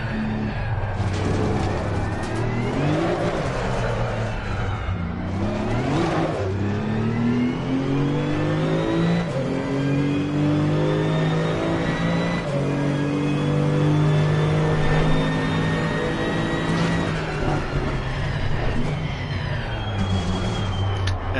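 GT2 race car engine in Assetto Corsa Competizione revs up and down through gear changes, a loud continuous rising-and-falling drone with repeated shifts, steady up close throughout.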